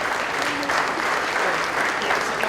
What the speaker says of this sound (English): Let's give her one more round of applause, ladies and gentlemen.